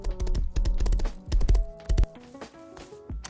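Horse hooves clip-clopping in the video game Rust, a series of sharp, close hoofbeats in uneven bursts with brief pauses between them, loud and otherwise alone.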